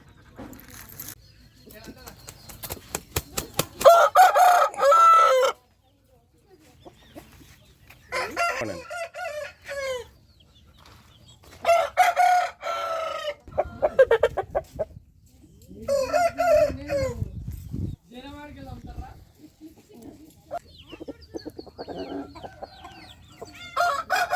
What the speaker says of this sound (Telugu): బన్నీ ఇక గుడ్డు పెట్టి పుంజు అలగొడుతుందిరా